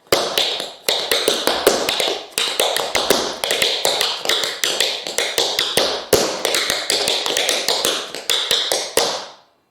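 Crisp tap dance steps clatter in quick rhythmic bursts, two time steps then two breaks, repeating patterns with short pauses between phrases, close and clear with no talking.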